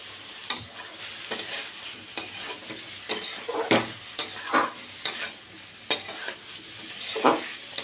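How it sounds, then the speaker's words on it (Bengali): Paneer and cauliflower stir-fried with paneer masala in a pan: a steady sizzle broken by repeated sharp scraping stirs about every half second to second, close and fairly loud, with no talking. "এবার আরও এক মিনিটের মতো কষিয়ে নেব"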